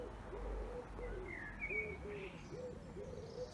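Songbirds and a cooing dove in a shady Cambridgeshire garden: a gentle rhythmic coo repeats steadily underneath, with a few brief high chirps and a faint thin twitter further off.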